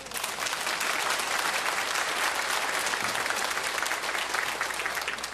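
Vigorous, sustained applause from a church congregation during a sermon at a church in Daejeon, many hands clapping densely and loudly with no talk over it.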